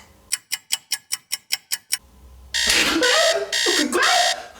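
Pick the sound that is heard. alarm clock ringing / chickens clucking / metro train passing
alarm clock ringing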